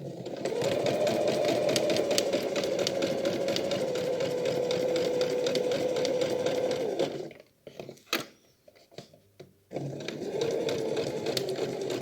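A sewing machine stitches reusable fabric wipes in a fast, steady mechanical whir, pauses for several seconds while the fabric is pivoted with light clicks and handling, then resumes stitching.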